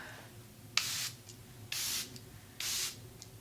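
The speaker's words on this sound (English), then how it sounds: "let's go ahead and do this finishing spray" A Charlotte Tilbury makeup finishing spray mists three times in a steady rhythm, each burst a loud, close, hissing spritz lasting about a quarter to a third of a second, with a quiet background between bursts.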